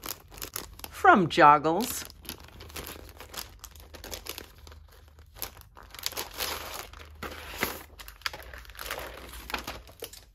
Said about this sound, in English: let's unwrap this brand new mirror mirror mask